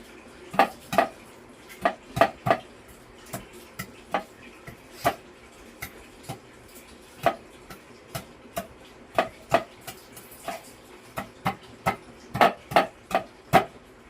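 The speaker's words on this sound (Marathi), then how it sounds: "हा माझ्याकडे दगडी गोटा आहे, यानेच मी ठेचून घेत आहे" Garlic cloves are crushed with a stone, a series of sharp knocks at an uneven rhythm, some single and some in quick pairs, close and clear with no talking.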